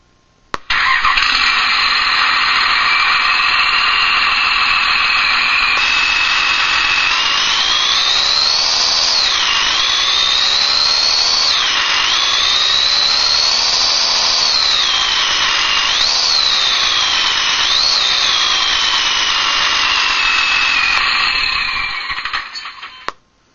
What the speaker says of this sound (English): This is a diesel. This is actually off a diesel pickup.